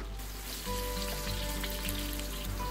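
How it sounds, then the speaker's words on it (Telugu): Bitter gourd pieces rubbed with salt fry in hot oil, giving a steady, dense sizzle close by with a faint low hum underneath, alone and unbroken throughout. "దాంట్లో మనం ఉప్పు రాసుకున్న కాకరకాయలని వేసుకొని వేయించుకోవాలి"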